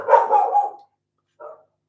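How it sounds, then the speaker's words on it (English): A nearby dog barks once loudly in a short burst, then gives a briefer second bark after a pause of silence. "Oh, that's my dog's going a bit now"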